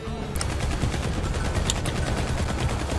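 Gunfire in a video game, a steady stream of rapid, closely spaced shots over a low continuous rumble, loud and without talk.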